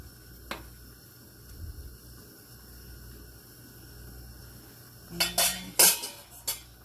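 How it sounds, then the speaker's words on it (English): A spoon scrapes and clinks against a cooking pot as rice is stirred, a brief cluster of metallic knocks and scrapes coming near the end after a mostly quiet stretch with one faint earlier tap. "give it a little stir"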